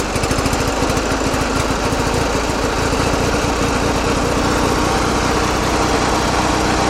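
A small motorbike-type engine on a homemade trapter runs with the choke partly on, a loud, fast, steady putter close by with no voices.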